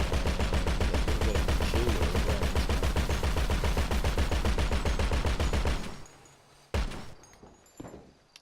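Heavy .50 caliber mounted gun on the HVY Menacer in Grand Theft Auto 5 fires a loud, sustained rapid burst of evenly spaced shots for about six seconds, then stops, leaving a couple of brief thuds.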